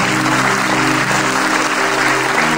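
Crowd applause at a gathering honouring a 105-year-old man, a steady, dense clatter of clapping hands filling the space without a break, with faint talk-like tones underneath.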